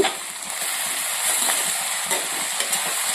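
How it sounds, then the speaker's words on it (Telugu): Chopped onions with green chillies and salt sizzle steadily in a pan for a tuna fish curry, stirred now and then, the frying hiss loud and continuous throughout. "ఈ ఆనియన్స్ బాగా ఫ్రై అవుతాయి"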